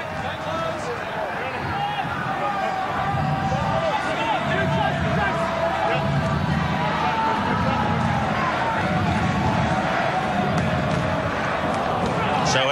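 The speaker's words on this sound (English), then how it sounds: "This Auckland crowd is really humming" Dense crowd roar fills a rugby stadium in Auckland during the Super Rugby final between the Blues and Sharks, a steady loud wash of cheering and chanting with a rhythmic pulse beneath, no break throughout.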